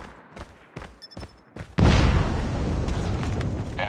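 In a Call of Duty match, several sharp gunshots crack apart before a destroyed sentry gun erupts in a loud, close explosion whose heavy rumble keeps roaring and fading across the rest of the moment.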